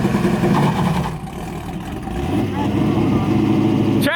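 A C5 Corvette with a 2-step installed and traction control on revs loudly during a burnout attempt, its engine note dipping and then swelling again under people talking.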